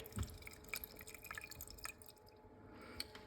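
A Baby Brezza formula machine dispenses milk and water together into a bottle, heard as faint close dripping and trickling liquid with a few small splashes, no voices.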